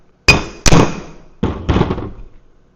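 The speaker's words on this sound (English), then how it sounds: "I would just take a socket and just kind of tap down in there and make sure it goes into the grooves" A socket is tapped down to seat a U-joint on a Jeep TJ: four sharp metallic knocks, two quick ones then a pause before two more, close and loud.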